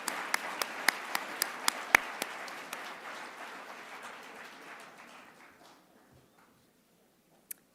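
Audience applause fills a hall at a graduate pre-commencement ceremony, with a few sharp close claps over steady clapping. It fades out over several seconds, and one lone clap follows after a near-silent pause.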